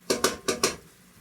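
Cheese is mixed into polenta in a bowl with four quick, sharp clinks of a utensil against the bowl in a short uneven burst, close and fairly loud, then silence.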